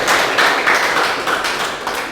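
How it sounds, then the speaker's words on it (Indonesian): Students in a classroom at a high school clap for classmates, a brisk burst of many hands applauding together, close and fairly loud, with rhythmic pulses over a couple of seconds. "berikan tepuk tangan untuk teman-teman tadi kalian"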